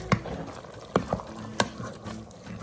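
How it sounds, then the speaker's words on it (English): A can of diced tomatoes stirred into a meaty cabbage soup in a pressure cooker, with three or four distinct wet scraping spoon strokes over a low bubbling background and no talking. "We'll mix in our tomatoes."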